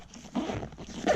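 Zipper on an ATV storage bag on a Grizzly 600 quad being opened, a quick scratchy pull with a louder rasp at the end, close up.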